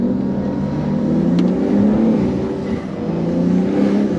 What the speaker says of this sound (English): BMW go brrr.